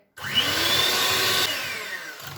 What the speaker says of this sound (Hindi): बीट करेंगे इनको और इनकी सॉफ्ट पीक्स हम लोगों ने बना देनी है।